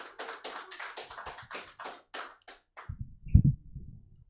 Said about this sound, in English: Keep clapping your hands for Skip.